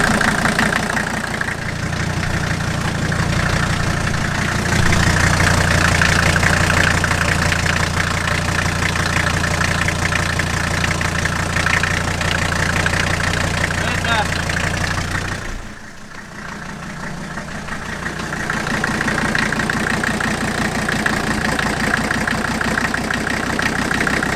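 A diesel Jeep engine idles close by with a steady, rough drone, after a repair to a cracked turbo oil feed line. The note sags briefly near the end, then returns to an even idle.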